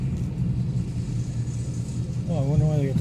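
A 2015 Ford Mustang GT with Flowmaster Outlaw axle-back exhaust drives past buildings, its low exhaust rumble steady and close throughout, with a brief voice near the end.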